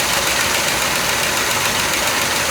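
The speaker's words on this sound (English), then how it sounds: "I'll hear a little bit of noise coming from the port side motor, like it's almost a tick or knock" A port-side big block engine on an old twin-engine yacht idles close and loud in a steady, dense rumble, with a faint tick or knock blended into the drone.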